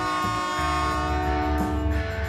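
A loud, sustained multi-tone train horn blares over the rumble of a moving train departing in the Canadian Rockies, close by.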